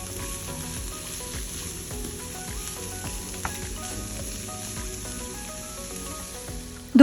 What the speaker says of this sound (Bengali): আরও 2 মিনিট মিডিয়াম টু হাই হিটে সব কিছুকে নেড়ে চেড়ে রান্না করে নিচ্ছি।